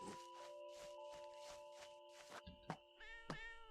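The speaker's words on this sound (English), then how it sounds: "It's just a really angry cat." Angry cat in the video game Dwarrows, meowing in a quick run of repeated yowls followed by a couple of sharper cries, faint and with no talking.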